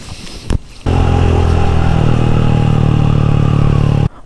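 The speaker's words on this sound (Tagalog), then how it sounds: "Kaingay-ingay siguro ng motor ko dito." A Rusi Classic 250 motorcycle engine with a 28 mm PWK carburetor starts up after a brief clatter and runs loudly and steadily at close range, then cuts off abruptly.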